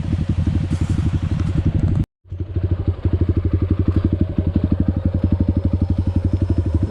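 Off-road motorcycle engine idling and being revved on a trail at Sungai Batangsi, a loud, close, rapid thumping beat that drops out briefly and then resumes at the same even pulse.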